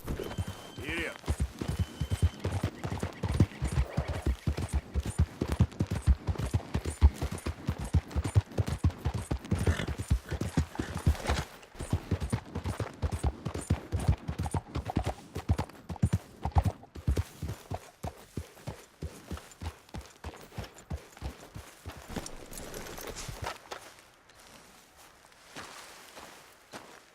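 A ridden horse in the video game Red Dead Redemption 2 clip-clops along at a steady, brisk rhythm of close hoofbeats for most of the stretch, slowing and fading near the end.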